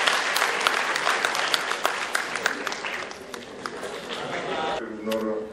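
Audience applause at a university communications faculty seminar in a hall, a dense sustained clapping that fades near the end as a voice begins speaking over it.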